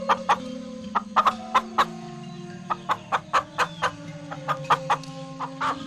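A white chicken held on a stick clucks repeatedly in a village setting, sharp clucks and short calls coming in a rapid irregular series, close and clear over a low steady background.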